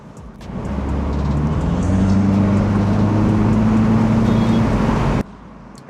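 A 2025 MINI Cooper Convertible S in go-kart mode drones steadily from the cabin, its engine rising with layered harmonics as it accelerates, loud and continuous before cutting off sharply near the end.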